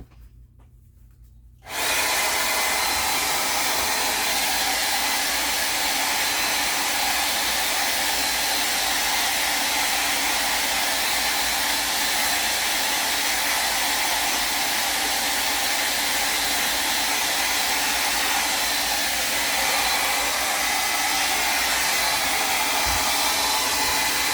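A hair dryer switches on and blows steadily and loudly at close range for over twenty seconds, drying paint on a decoupage rose piece, with a constant airy rush and no talk.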